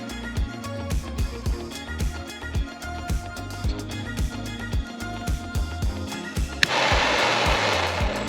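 A heat gun shrinks heat-shrink tubing over wire splices on a deep-well pump sensor cable. Its steady, loud blowing roar cuts in abruptly near the end, following rhythmic background music.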